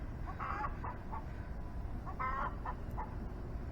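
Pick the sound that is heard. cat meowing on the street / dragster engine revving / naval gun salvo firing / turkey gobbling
turkey gobbling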